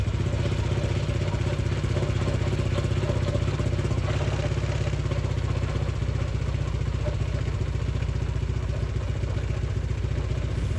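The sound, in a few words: Honda Click 160 scooter engine started and running after throttle body cleaning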